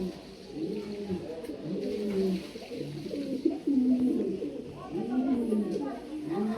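Pigeons of a fancy breed coo repeatedly on a farm, soft throaty calls overlapping in a steady chorus close by, with a voice talking over them at times.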